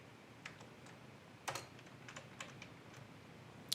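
Keys tapped on a computer keyboard during a coding session, light scattered clicks with a few sharper strikes, close and quiet over a soft room hiss.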